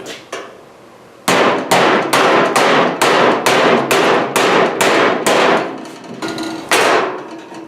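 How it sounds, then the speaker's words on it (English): Repeated hammer blows on the edge of an El Camino door skin, about a dozen sharp metallic strikes in a steady rhythm, loud and close, with no talk. "that edge started with the hammer"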